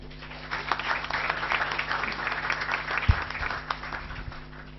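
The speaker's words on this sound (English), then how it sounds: "Now please give a warm round of applause to welcome Dr." A lecture hall audience applauds to welcome a guest speaker at a memorial lecture. The clapping is sustained and moderately loud, with a low electrical hum running underneath.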